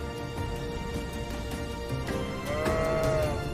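Herd of more than 180 goats on a South African farm, bleating in overlapping calls, some drawn out and wavering, with steady background noise and no talk.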